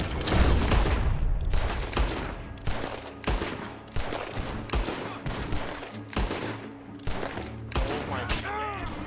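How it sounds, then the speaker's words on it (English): Rapid volleys of gunfire ring out from a barn in the Red Dead Redemption 2 video game, loud and repeated in quick bursts over several seconds, with occasional shouting mixed in. "Gunshots are coming from that barn!"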